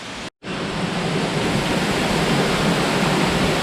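Loud, steady roar of a waterfall heard from behind the falling water, broadband rushing noise filling the space, with a brief drop to near silence at the start before the roar resumes and holds constant.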